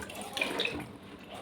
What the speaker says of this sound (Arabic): غادي درت النص تاع المازهر، غادي ندير نصه الماء.